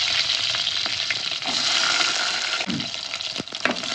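Shallots frying in hot oil with mustard seeds and fenugreek make a loud, dense, steady sizzle close by, broken by a few scraping stirs.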